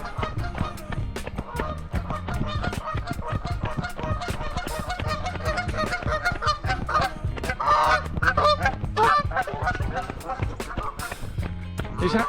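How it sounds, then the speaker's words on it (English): A flock of Canada geese honks loudly and continuously at dawn near a running route, with overlapping calls crowding together throughout. "Is that angry Canada geese, or are they just getting ready for the morning?"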